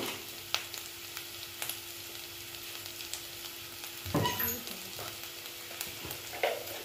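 Ground spices, red chilli powder, Kashmiri chilli and turmeric, frying in oil, a steady moderate sizzle with occasional spoon clicks and a short burst of stirring, no talk.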